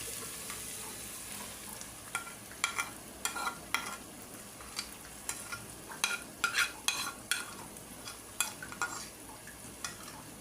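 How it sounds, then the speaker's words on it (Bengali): Spice paste for chicken roast frying in a pan, a spatula scraping and stirring it in repeated, irregular strokes over a soft, steady sizzle, close and fairly loud. "এখন মশলাটা আমি ভালো করে কষাবো"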